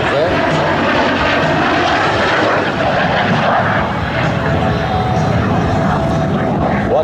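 Aerobatic airplane at an air show flying a series of double aileron rolls, its engine droning steadily and loudly throughout, with an announcer talking over the noise.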